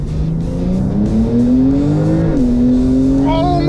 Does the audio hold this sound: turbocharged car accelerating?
yes